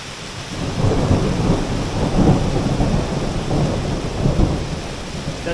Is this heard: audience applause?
no